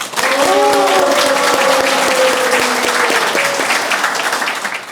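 Audience at a book launch ceremony for teachers dismissed in the education democratization movement bursts into loud, sustained applause with cheering, dense clapping under a brief sustained vocal cheer.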